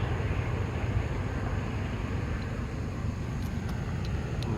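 Westbound freight train with container cars hauled by several locomotives laboring upgrade in the Eastern California desert near Goffs, a steady low rumble and drone heard from outside, constant and moderately loud with no talk.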